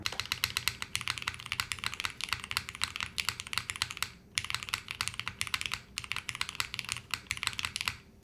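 Rapid clacking keystrokes on a computer keyboard with its case unscrewed, including spacebar presses, come in dense bursts with two brief pauses, close and fairly quiet.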